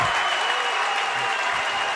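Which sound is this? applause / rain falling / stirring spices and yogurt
applause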